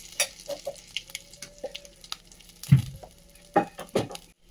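Dried chili, cardamom, bay leaf and onion frying in hot oil for a prawn malaikari, giving soft crackling sizzles with a few sharp pops and stirring scrapes, close and fairly quiet.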